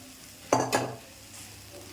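Boiled grated potato is tossed into a frying pan with cooked vegetables for a vegetarian chop, giving two quick sizzling, scraping stirs close up, then a quiet low hiss of frying.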